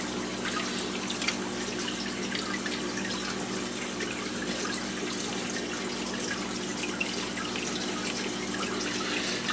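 Aquarium siphon draining water from a 40-gallon breeder tank into a 5-gallon bucket, a steady close trickling and dripping stream that runs evenly and alone throughout.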